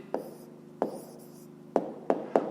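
A pen or chalk writes out the answer to a fifth-grade maths exercise, giving a few soft scratches and sharp taps spread across the moment, close and quiet, with no talking.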